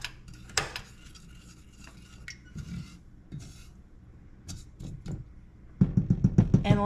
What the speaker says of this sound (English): 236 grams of sugar. I'm going to give that a quick stir